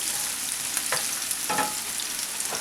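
Onions sauté in an Aisha Curry skillet with a steady sizzle, while a few stirring scrapes cut through the frying.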